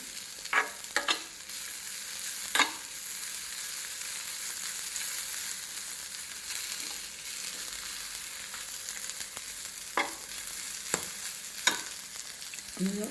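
Spinach leaves wilt and sizzle softly in a hot pan for vegetable noodles, a quiet steady fry broken by a few sharp scrapes and taps of a utensil.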